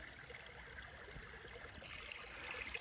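Matt's Creek runs as a steady, soft rush of water along a hiking trail, a continuous close trickle and wash with no voices over it.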